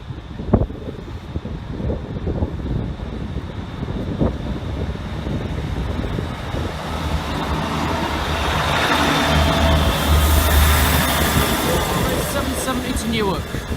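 A Class 158 diesel train passes a level crossing at night, a broad rumbling roar that swells steadily as it draws close, with wind buffeting the microphone throughout.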